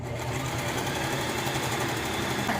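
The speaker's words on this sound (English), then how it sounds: "We're doing the inner lining now, and I'm gonna stitch it left and right." Close, steady whirring of a sewing machine stitching the inner lining of a fabric box, a fast even mechanical rhythm running continuously from start to finish.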